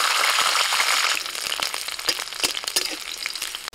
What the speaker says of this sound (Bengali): কিছু গোটা রসুন ভেজে নেব।